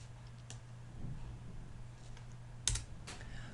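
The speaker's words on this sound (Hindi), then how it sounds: "अब जो ही मैं कोई की प्रेस करूँगा तो वो ऑब्जेक्ट जो है वो इसके अंदर डेटा को इंसर्ट" Computer keyboard keys pressed a few times, giving sharp, close clicks spaced out over a steady low electrical hum, with no talking.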